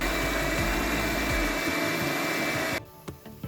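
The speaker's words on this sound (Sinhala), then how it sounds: "අපි මේක හොඳට බ්ලෙන්ඩ් කරගන්නවා" A blender purees leftover cooked rice with water for pittu. A loud, close motor roar runs steadily, then cuts off near the end, leaving a few faint clinks.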